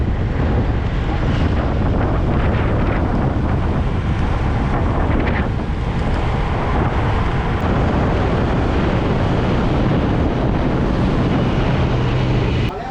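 A motorbike rides through Bangkok's streets from Khao San Road toward Chinatown at night, a loud, steady roar of engine and rushing wind buffeting the microphone throughout.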